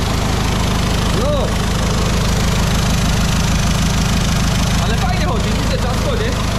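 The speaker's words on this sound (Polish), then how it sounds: "Kamil, to udało się odpalić!" A modified VW Golf GTD with a 2.0 TDI diesel engine idles steadily just after starting, a dense low, even rumble running throughout, with brief voices and faint squeaky sounds over it.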